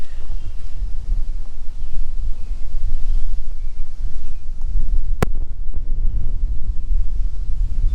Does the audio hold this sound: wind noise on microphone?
yes